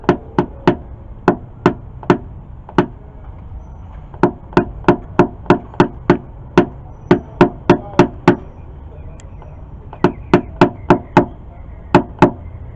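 Sharp metallic taps from a hammer on a Teflon knockdown working a dent on a 2015 Honda Accord, coming in quick rhythmic bursts of several strikes with brief pauses between groups, close and crisp.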